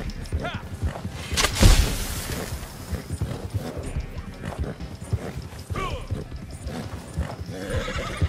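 A horse in a Red Dead Redemption 2 race gallops with rapid hoofbeats and lets out a loud neigh early on, while someone talks over the action throughout.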